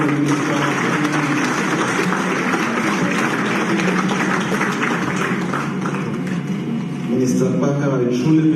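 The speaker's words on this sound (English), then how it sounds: "Ladies and gentlemen, another round of applause for the Minister of Finance." Many people at a Freetown conference hall clap for the Minister of Finance in a continuous, fairly loud round of applause, with a voice cutting in over the clapping toward the close.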